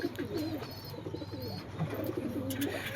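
Pigeon cooing close by, several soft throaty coo phrases repeating across a few seconds over a low background hum.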